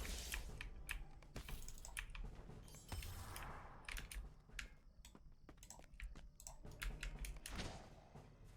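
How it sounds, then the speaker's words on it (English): Rapid computer keyboard typing mixed with sharp mouse clicks during a Lord of the Rings Online game session, the clicks close and fairly loud, clattering continuously throughout with no talking. "Gosh, my mouse is so loud."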